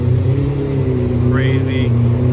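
A McLaren F1 GTR race car rounds a corner with a loud, close, steady engine drone during Monterey Car Week, and a voice talks over it.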